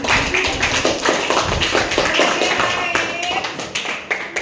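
Classroom applause for a student group at a junior high school in Indonesia: brisk, close hand-clapping from several people, steady and dense for the whole stretch, with some chatter mixed in.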